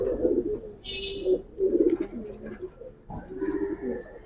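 Silver Giribaz pigeons coo nearby in soft, low, repeated warbling calls, with faint bird chirps scattered above.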